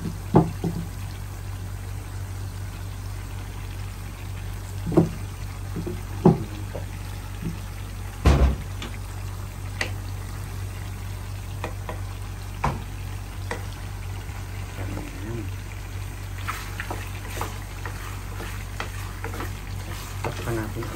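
Garlic fries in a pan alongside pork with bagoong, giving a steady sizzle under a low hum, with occasional knocks and scrapes of stirring and no speech.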